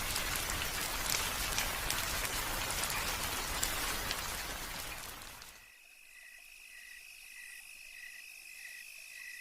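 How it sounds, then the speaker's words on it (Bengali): Light drizzle on a rainy Boishakh night in a village, a steady close hiss and patter for several seconds that cuts off abruptly into quiet night insect chirping. "বাইরে এখনও ঝিরঝিরে বৃষ্টি হচ্ছে"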